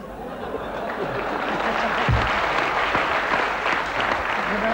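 Studio audience applause at a talk show, a dense sustained round of clapping from a crowd with some chatter and light laughter mixed in, close and fairly loud throughout.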